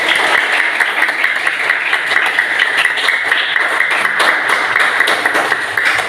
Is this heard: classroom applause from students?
yes